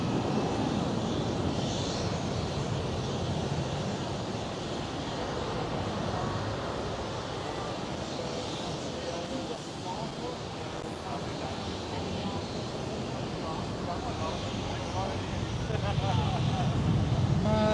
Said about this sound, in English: Oh, immediate banking. Very nice. Right there, the Delta Airlines A330.